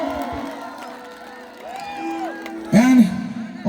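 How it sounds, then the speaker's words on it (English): An audience at a college cultural program cheers for drummer Raj Nandi with scattered whoops and shouts. The cheering rises into a loud burst near the end, with voices calling out over it. "Let's have a big round of applause for Raj, everyone"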